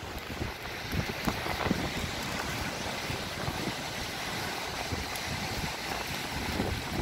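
At Skegness beach in the morning, wind rushes against the microphone over a steady wash of surf. The sound stays broad and constant, with no voices.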